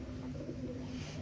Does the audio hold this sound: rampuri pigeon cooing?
yes